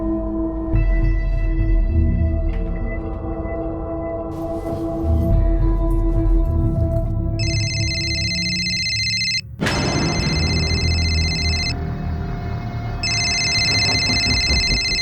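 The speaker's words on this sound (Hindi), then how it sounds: "बेटा अदिति, फोन तो मेरा बजा, तुम क्यों चौंक गई?" A phone rings in a TV crime drama scene, its electronic ringtone coming in repeated bursts partway through after some rustling background sounds.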